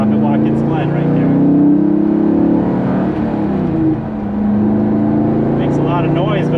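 A 2002 Chevrolet Corvette C5 Z06 engine rumbles loudly and revs as it accelerates at about 55 mph, with a steady low growl and shifting pitch; a voice talks over it.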